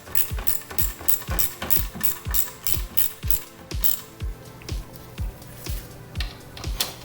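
A ratchet fitted with a 10mm socket tightens bolts on a 1995 LT1 Corvette. The pawl clicks fast in steady bursts, one quick stroke after another, loud and close, with no talking over it.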